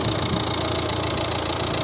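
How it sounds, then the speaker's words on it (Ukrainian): A 2011 Volvo V60 with a 1.6 HDi diesel engine and manual gearbox idling, a steady close mechanical rumble with a faint rhythmic diesel clatter and no talk. "Ось робота двигуна."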